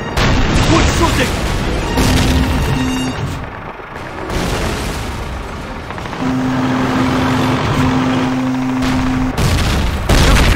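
Dense Call of Duty (2003) battle din, with continuous loud gunfire and booming blasts filling the scene and shouted voices breaking through now and then.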